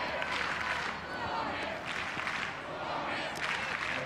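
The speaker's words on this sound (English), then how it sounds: "You can hear the supporting a rowdy crowd, the locals." Rowdy home crowd of locals cheering and clapping in a steady, dense wash of noise from the stands at a women's ultimate frisbee world championship final, Canada against Finland.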